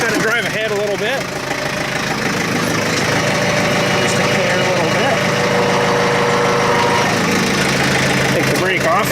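A 110 TLB tractor's mid-pitched diesel engine runs steadily and loudly throughout while the machine drives ahead, with someone talking over it.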